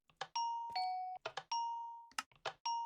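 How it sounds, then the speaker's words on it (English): A doorbell in the Minecraft video game rings several times in quick succession, each press giving clean, bright chime tones with short gaps between them, at a moderate level with no voices. "if we ring the doorbell"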